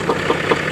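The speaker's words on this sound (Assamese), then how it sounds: "আমাৰ মাইনা পুৰা মানে ট্ৰেক্টৰ ফাইনেলি" A tractor engine running close by with a steady, throbbing mid-pitched chug and a rhythmic knock, alone with no voices.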